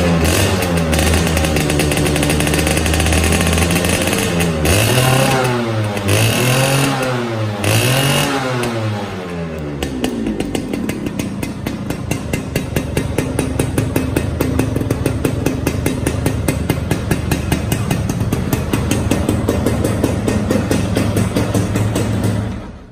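A Suzuki Satria motorcycle engine revs loudly up and down in several swells, then settles into a steady, rapid, buzzing idle close by.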